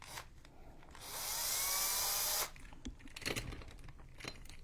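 A power drill bores a hole for a Halloween book nook vignette in one sustained, loud whirring run of about a second and a half. Quieter handling clicks and taps come before and after it, close by.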